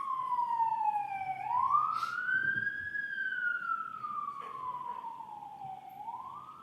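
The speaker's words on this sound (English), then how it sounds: "I'm just letting the siren go out." A wailing emergency siren passes outside a courtroom during witness testimony, its pitch sweeping slowly down and up in long continuous cycles, loud and steady from a distance with no speech.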